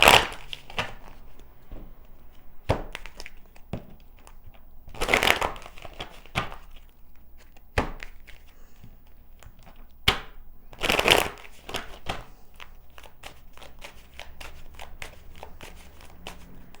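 Tarot cards are riffled and shuffled repeatedly, with a few louder ruffling bursts between softer handling taps and flicks, close and without speech.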